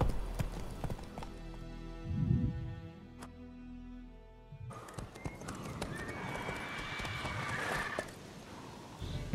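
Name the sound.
horse Roach galloping in The Witcher video game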